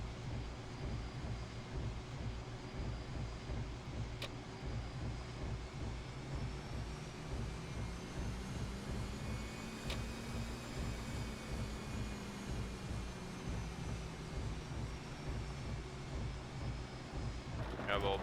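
Airbus A320 jet in the X-Plane 11 flight simulator rolling out after a rough landing, a steady loud engine roar with a slowly rising and falling whine as braking slows it, continuous throughout.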